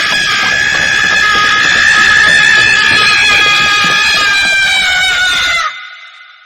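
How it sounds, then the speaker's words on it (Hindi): A person runs while screaming in a horror story sound effect, one sustained high wailing scream over rushing noise that cuts off abruptly near the end. "कोई उनके ठीक पीछे से चीखता हुआ"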